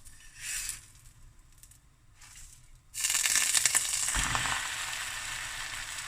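A cheddar cheese and jalapeño sandwich toasts in a pan, starting with a couple of soft hisses and then settling into a louder, continuous close sizzle with crackle.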